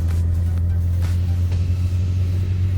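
A Yamaha R6 superbike engine drones loud and close with a deep steady rumble as its rear tire churns in beach sand, the revs holding nearly constant with slight surges.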